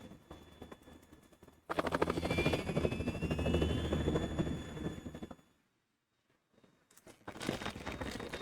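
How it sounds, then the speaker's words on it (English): A Harrier jet roars in Metal Gear Solid 2, a loud, throbbing rotor-like drone that surges in, cuts out to near silence, then returns. "It's the Harrier."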